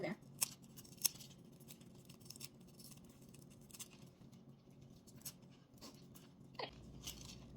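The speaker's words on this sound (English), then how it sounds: "So just rip them off there." Pineapple leaves ripped off the fruit one layer at a time from the bottom, brief crisp tearing snaps scattered over several seconds, close and moderately loud against a quiet background.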